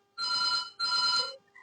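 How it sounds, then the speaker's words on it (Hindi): A telephone rings twice in quick succession, each ring a loud, bright electronic trill lasting about half a second, followed by a faint short tone. "Mona Lisa please pick up the phone"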